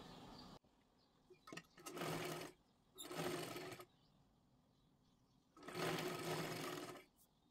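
A sewing machine stitches a size-42 katori blouse in three close, loud bursts of rapid whirring, the last one longest, separated by quiet pauses.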